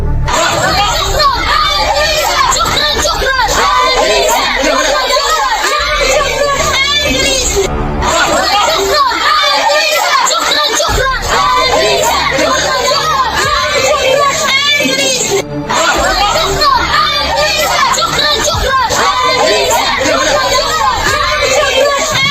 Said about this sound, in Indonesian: Ketika konvoi kendaraan lapis baja putih dengan bendera merah putih melintas, sorak-sorai pun menggema